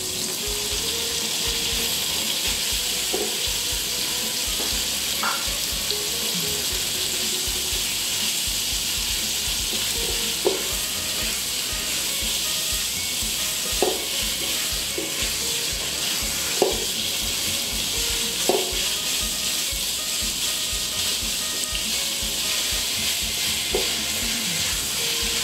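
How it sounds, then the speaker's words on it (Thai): Pork with chili and garlic stir-fries in a pan, a constant close sizzle running throughout with occasional spatula clicks and scrapes against the metal at irregular intervals. "ต่อไปก็ใส่หมูลงไปผัดได้เลยค่ะ"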